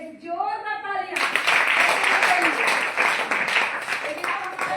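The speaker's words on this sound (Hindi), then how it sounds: "आज दीजिए स्पोरुलिना के लिए एक जोरदार तालियां।" Loud, dense applause from a large seminar audience at a DXN product talk in India, a sustained roar of clapping lasting several seconds after a brief spoken introduction.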